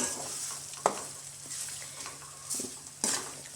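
Quail eggs are stirred through masala in a hot pan, giving a soft steady sizzle and fry hiss. A few distinct spoon scrapes and knocks against the pan sound close by, with no one talking.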